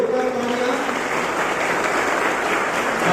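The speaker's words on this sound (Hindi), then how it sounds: "जोरदार तालियां" Audience at a youth leadership training event breaking into loud, sustained applause, a dense even wash of clapping that fills the whole stretch without pause.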